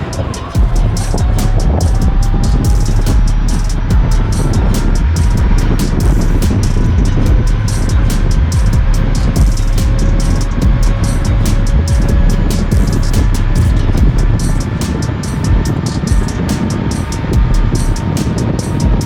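An InMotion P6 electric unicycle races at high speed through a cutout tunnel, with a constant loud roar of wind and rushing air. A thin, rising motor whine sits beneath it.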